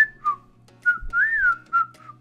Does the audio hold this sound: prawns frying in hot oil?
no